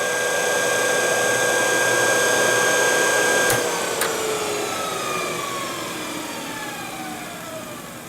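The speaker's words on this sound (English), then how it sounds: "So the motor by itself is running very smooth and nice." Electric motor of a Jeep CJ7 EV conversion running on its own, a steady smooth whine with stable tones that fade and drift slightly lower as it winds down, with a couple of brief clicks midway.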